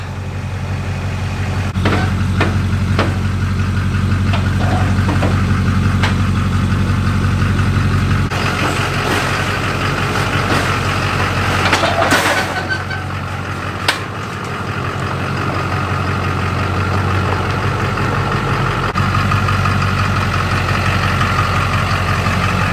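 A 2004 GMC Sierra 2500 HD with a 6.6-liter Duramax diesel idles close up in a loud, steady rumble, broken briefly by a clattering burst partway through. No one speaks.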